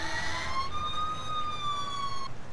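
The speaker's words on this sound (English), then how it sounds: "this is a different siren than I changed in from the Boston mode" Police car siren from the Emergency 4 video game with the Montana mod, a short, loud electronic wail that rises and holds steady for about two seconds before cutting off.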